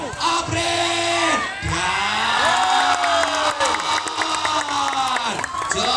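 Spectators at a women's volleyball match in Wonogiri cheer and shout loudly, a dense crowd roar with whoops rising and falling, while an announcer's voice carries over the noise.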